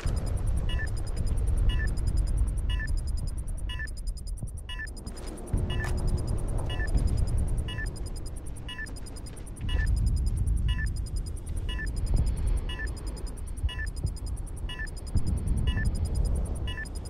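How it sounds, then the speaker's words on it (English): Bomb-planted beeping in a competitive shooter video game, a steady high-pitched electronic beep repeating about once a second throughout, over low game rumble and ambient noise. "Oh shit, the bomb has been planted."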